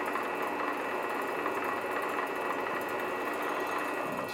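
A Grizzly 60768 lathe spins steadily for spin painting, giving a constant mid-level whirring hum with no change in pace, heard alone.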